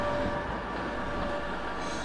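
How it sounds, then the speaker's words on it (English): Class 87 electric locomotive 87016 Sir Francis Drake propels a rake of Mark III coaches into London Euston in 1983, giving a steady, even rumble of slow-moving rolling stock with a faint sustained tonal hum, close and unbroken. "87016 Sir Francis Drake propels a rake of Mark III coaches from Euston down carriage sidings into"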